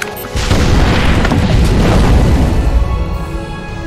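An explosive vest detonates in the video game Far Cry 3, a loud booming blast that starts abruptly and rolls on as a dense, rumbling roar before slowly fading.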